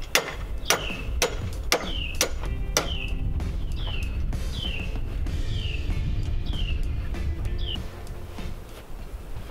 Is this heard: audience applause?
no